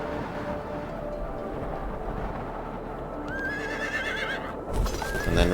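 Horse whinnying with clip-clopping hooves in the fantasy strategy video game Age of Wonders II, two rising neighs over a steady low game background, fairly close.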